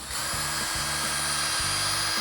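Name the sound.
power drill drilling pilot hole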